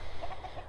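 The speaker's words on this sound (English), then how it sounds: "All the chickens watching me from up on their perch." Chickens sitting on their perch in a homestead pen give a few soft, quick clucks over steady outdoor background noise.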